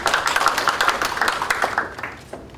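A short round of audience applause at a Korean recycling-industry policy forum greets the next panelist, a quick patter of many hands that fades out near the end.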